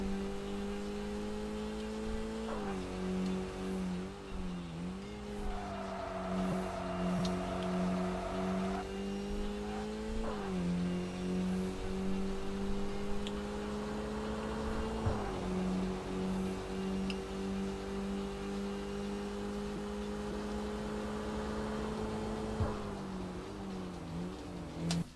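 A video game car engine hums steadily and rises in pitch as it revs, dipping at each gear shift, with a steady mechanical drone throughout.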